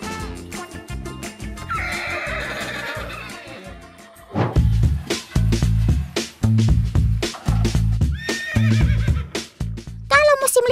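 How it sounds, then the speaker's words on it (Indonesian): A horse neighs and whinnies loudly several times, separated from its herd or handler, with pounding music and someone talking over much of it. "suara ringkikan ini merupakan bentuk meredakan kecemasan saat berpisah dengan kawanan atau sang perawat"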